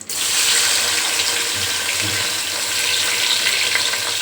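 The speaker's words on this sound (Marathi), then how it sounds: "आता आपण घालतोय कांदा" Chopped onions hitting hot oil in a pan while chicken biryani is being cooked, with garlic, coriander, tomato and bay leaves already in it: a sudden loud, continuous sizzle and crackle, close by, with no talking.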